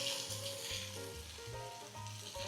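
Pork ribs sear in a hot pan with a continuous, close, crackling sizzle that holds steady throughout, with no voices.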